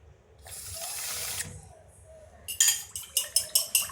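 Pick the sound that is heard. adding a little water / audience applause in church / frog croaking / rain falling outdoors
adding a little water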